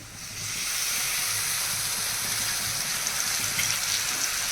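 Spice paste hits hot oil and lightly browned garlic in a pan, and a strong, even sizzle swells up quickly, then holds close and steady.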